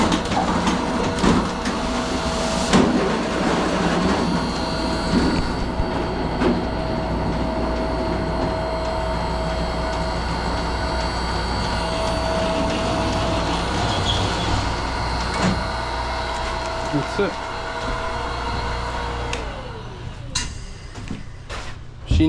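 A roll former machine forms copper standing seam panels, giving a steady mechanical drone with rattling and clanking through the run, continuous and fairly close, easing near the end.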